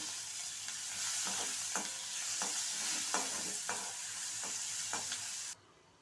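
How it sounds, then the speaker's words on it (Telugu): Mustard seeds sizzle and crackle in hot oil, a steady frying hiss broken by spoon scrapes against the pan every half second or so. "ఆవాలు వేసి వేయించుకోవాలి."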